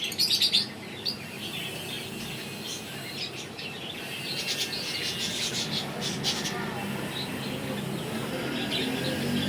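Pigeons at a loft give steady chirping calls over a constant insect-like hiss, moderately faint and continuous, with no one speaking.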